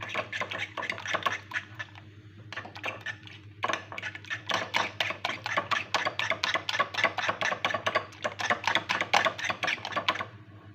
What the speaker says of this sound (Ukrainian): я ж так розколочую, ще мішаю жовточок із білком